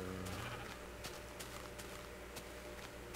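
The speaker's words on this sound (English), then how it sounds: "Sheep" Sheep in the Minecraft video game bleat over steady in-game background noise, the calls brief and fairly close, repeating a few times at irregular intervals.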